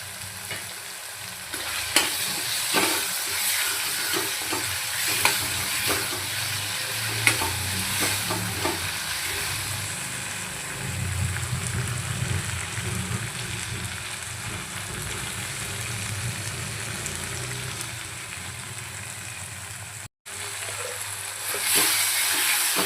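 Tomato chutney sautés in a pan with a continuous close frying sizzle and frequent clicks and scrapes from stirring, with no one talking.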